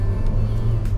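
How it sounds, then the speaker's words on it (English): 2023 Mitsubishi Xpander Cross accelerating, a steady low engine rumble from inside the cabin, close and even over a brief moment with no voices. "I'm gonna step on the gas now"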